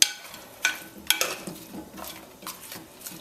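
Quartered potatoes are stirred into an oven curry goat dish, with a spoon scraping and clinking against the pan in several irregular strokes, close and fairly quiet.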